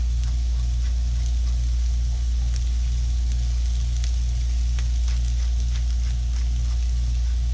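Seasoned onions with kosher salt and black pepper sizzle steadily in a pan, a continuous close crackle with a low background hum and no voices.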